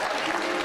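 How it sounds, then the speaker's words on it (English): A crowd at an NFL draft countdown event in Green Bay applauds a former Packers player, a brief, dense wash of clapping that holds steady from start to end with no pauses. "How about a round of applause for George?"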